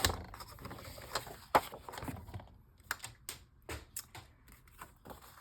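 Scissors cut through a sheet of printed paper for a junk journal cover, giving a run of close, crisp snips and rustles at an irregular rhythm with no talk.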